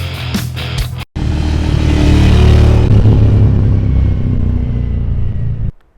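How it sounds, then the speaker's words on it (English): Motorcycle engine, a Ducati or Moto Guzzi, roaring loudly up close after a brief cutout, revving hard with a deep throaty rumble before cutting off abruptly. "Oh, I forgot how good that bike sounds."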